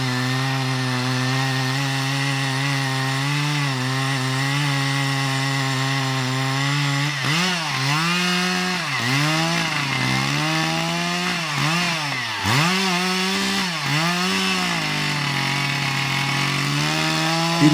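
A chainsaw cuts into a 600-year-old tree during felling, running loud and continuous close by, its engine pitch dipping and recovering repeatedly as the chain bites into the wood.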